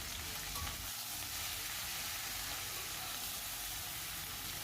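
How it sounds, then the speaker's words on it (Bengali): Constant hissing sizzle of mixed vegetables frying in a pan with salt and turmeric, even and close, with faint stirring scrapes and no voices. "এদিকে সবজিগুলো ভাজা হতে হতে"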